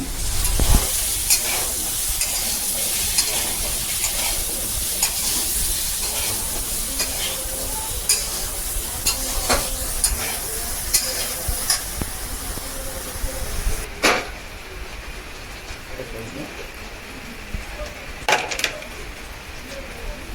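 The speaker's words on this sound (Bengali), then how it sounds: "এদিকে আলুটা ভাজা হচ্ছে" Potatoes frying in a pan for a home-cooked chicken dish, a steady close sizzle and hiss with occasional stirring scrapes and clatters, continuous throughout and no talking.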